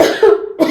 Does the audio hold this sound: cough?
yes